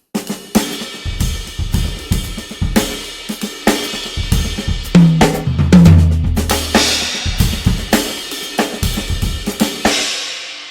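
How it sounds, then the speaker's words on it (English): A drum kit plays a steady groove, ride cymbal strikes ringing over kick and snare hits at an even pulse, close and fairly loud with no voices. "I go to the ride cymbal. So it would sound like this."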